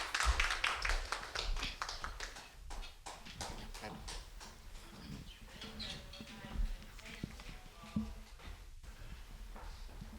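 Church congregation at a Sunday Hindi service in Jordan Assembly clapping to welcome the pastor, a dense burst of hand claps at the start that thins into scattered claps and taps, with voices murmuring underneath.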